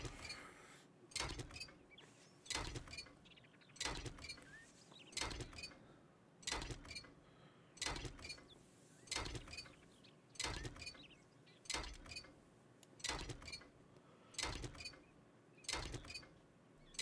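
A basic level-one wrench works at salvaging a vehicle in the survival game 7 Days to Die, giving a steady, evenly spaced series of about a dozen metallic clanks, close by and fairly quiet.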